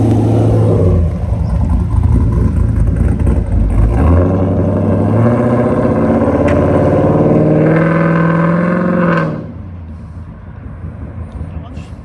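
A lowered Holden VF Commodore drives by on the street, its engine droning loud and near with rising revs before the sound cuts away sharply, leaving only a faint tail.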